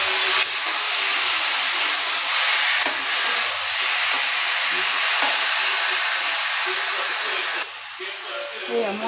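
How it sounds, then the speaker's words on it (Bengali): Drained taro pieces hit a hot pan and sizzle in a loud, steady hiss that lasts throughout, briefly dropping near the end. "এতিয়া সেই পানীখিনি নিগৰাই ৰখা কচু দি দিলোঁ।"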